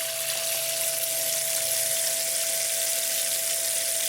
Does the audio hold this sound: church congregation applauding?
no